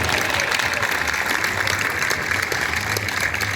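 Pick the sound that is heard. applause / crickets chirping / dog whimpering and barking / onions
applause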